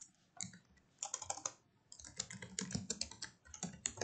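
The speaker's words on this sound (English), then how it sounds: "I want to manually type something." Typing on a computer keyboard while entering text in mapping software, a quiet, close run of rapid key clicks coming in irregular bursts with short pauses between them.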